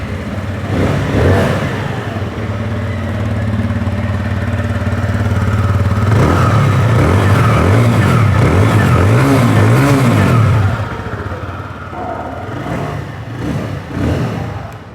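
TVS Apache RTR 180 BS6 motorcycle engine idling close by, then revved hard several times in rising and falling bursts, settling back to a steady idle near the end.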